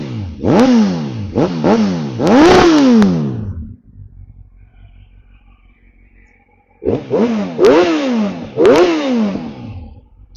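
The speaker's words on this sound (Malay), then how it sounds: "Kawasaki Z1000 Akrapovic full system exhaust," A 2010 Kawasaki Z1000 with an Akrapovic full-system exhaust revs hard three times in quick succession, each rise and fall loud and close. It settles into a quiet idle for several seconds, then sharply revs three more times.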